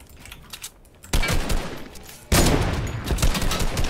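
Robot enemy firing rapid bursts of gunfire in a shooter video game, loud and close, with two sharp onsets of sustained automatic fire.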